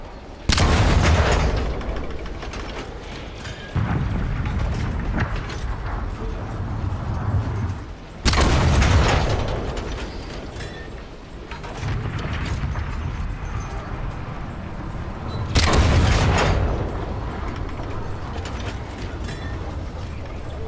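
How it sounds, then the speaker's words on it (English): Cannon fire in a ranked standard video game match: three loud, booming shots spaced about seven seconds apart. Each one bursts sharply and trails off into a long rumbling decay over continuous in-game noise. "I don't know how this cannon shoots sometimes, it's bizarre."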